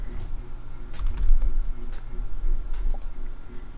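A computer keyboard clatters as a short code block is typed into a web editor, with quick irregular key clicks running steadily for several seconds and a faint voice underneath.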